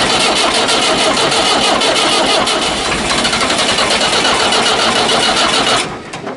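French-built Massey Ferguson 1080 tractor engine, started with ether, cranking loudly with a rapid, rough, continuous churn close by before easing off at the end.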